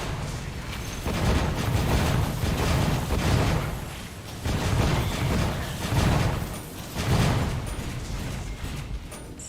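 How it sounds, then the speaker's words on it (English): Torchlight 3 gameplay explosions roll out as repeated muffled booms and crunchy bursts, loud and continuous, swelling in waves about every two seconds. "You can see how he's hitting the ground and there's 2 explosions next to me."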